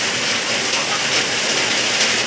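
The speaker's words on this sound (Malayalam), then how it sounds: "മഴ പെയ്യുന്നു." Steady rain pours down in a dense, even hiss with no pauses. It is fairly loud and close, and no voices are heard.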